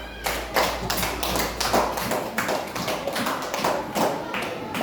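A classroom of fifth-grade primary school pupils claps for a student group after a maths exercise, giving a few seconds of uneven, moderately loud applause with rhythmic bursts of hand taps and no speech over it.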